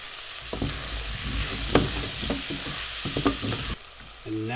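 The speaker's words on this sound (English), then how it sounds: "Now we're going to throw in a big old chunk of butter." A big chunk of butter sizzling with salted vegetables in a pan, a close, continuous frying hiss with scraping stirring strokes and small crackles, no talking.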